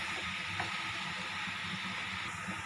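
Grated beetroot frying with curry leaves in a pan, a steady soft sizzle and hiss throughout, even and close with no talking.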